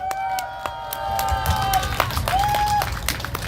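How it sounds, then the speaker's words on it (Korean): Rally crowd outside Seoul Station clapping and cheering, a dense continuous roar of hands and voices with a whistle-like tone sounding over it, loud and close. "우리 김한배 대표님께 다시 한번 더 응원의 박수 부탁드리겠습니다."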